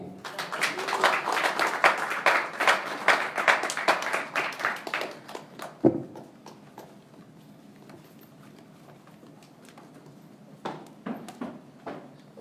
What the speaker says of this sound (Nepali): एकचोटि फेरि जोरदार ताली बजाइदिनु म हार्दिक अनुरोध गर्छु